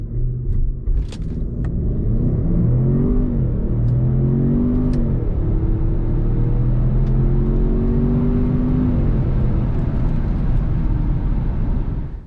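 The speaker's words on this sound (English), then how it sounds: "the engine sounds pretty good" A 2022 Range Rover P530 First Edition SUV's engine accelerating, a steady muffled rumble with rising tonal pitch sweeps, heard continuously from inside the cabin without talk.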